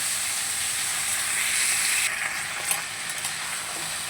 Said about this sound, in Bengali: সবজিগুলো দিয়ে বেশ সুন্দর করে এগুলোকে নেড়ে চেড়ে একটু হালকা নেড়ে চেড়ে নেব।